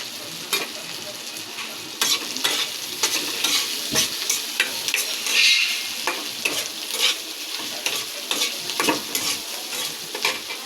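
Onion and bay leaf frying in hot oil in a pan, sizzling steadily while a utensil stirs and scrapes with repeated short strokes, close and moderately loud, without speech.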